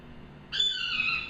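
A single high, sharp whistled eagle cry rises suddenly after a quiet moment and holds briefly, thin and piercing.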